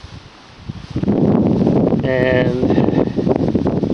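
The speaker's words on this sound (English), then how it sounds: "we're getting some wind gusts that are just unreal, to the point of it's strong enough to blow the camera over on the tripod" Strong wind gusts batter a camera on a tripod on a farm during rainy tillage season, a loud roaring rush that swells after the first second and stays heavy throughout, with a brief voice audible within it.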